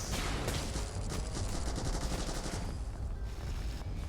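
Rapid, sustained gunfire in the online shooter Morphies' Law, a dense stream of shots rattling continuously at steady loudness for several seconds with no voices.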